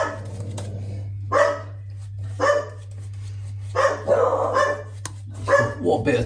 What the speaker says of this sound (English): What better time to have a shave and have the dogs barking on the camera.